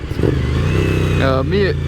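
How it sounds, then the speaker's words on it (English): A Suzuki SV1000S motorcycle's V-twin rumbles steadily and close up through a Dominator R exhaust, with someone talking over the engine throughout. "I really hope that you guys are able to hear the exhaust on this bike too"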